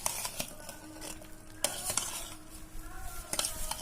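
Mango pieces being stirred and tossed by hand with spice powder for pickle, giving soft moist squelching and rustling with a few sharp clicks of a bowl or utensil, close and alone.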